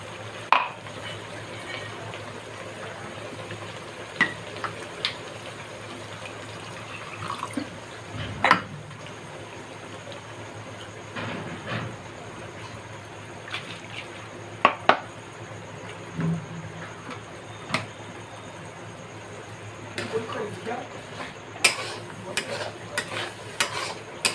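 Spice masala is stirred in a pan for a chicken dish, giving a soft background hiss with scattered scrapes and clinks of a spoon against the pan, fairly quiet and close.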